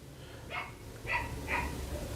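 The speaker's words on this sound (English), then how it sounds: "My dog seems to be agreeing with me outside, barking in reality" A dog barks outdoors, heard as three short barks spaced apart, faint and distant through a steady background hum.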